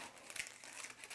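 Parchment paper being trimmed over a galette des rois, with soft crinkling and rustling close by and one brief sharper crackle partway through.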